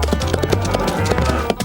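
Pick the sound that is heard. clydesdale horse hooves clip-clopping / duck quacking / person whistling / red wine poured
clydesdale horse hooves clip-clopping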